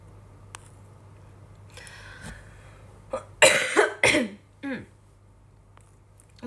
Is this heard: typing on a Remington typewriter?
no